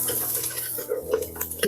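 Vegetables for a homemade potato soup tumble into a pot and are stirred with a utensil, scraping and clattering against the metal under a steady sizzling background.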